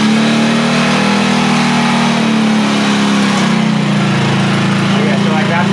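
A Honda CT90 motorcycle engine fitted with a Nibbi 125cc carburetor runs loud and close with a steady idle hum that dips in pitch partway through as the mixture is adjusted.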